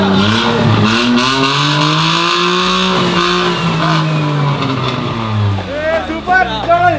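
A homemade limousine's engine revs with its silencer cut off, a loud, rough drone that rises and falls steadily, with people talking over it throughout.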